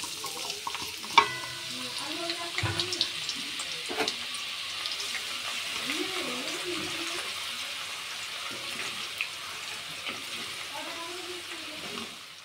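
Homemade herbal hair oil stirred in a pan over the stove, a steady soft sizzling with occasional scraping clinks of the utensil against the pan.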